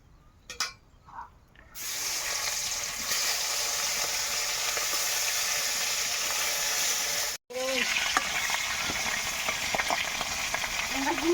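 Fish fry in hot oil in a pan, giving a loud, steady crackling sizzle that starts after a quiet opening and runs continuously apart from one brief break.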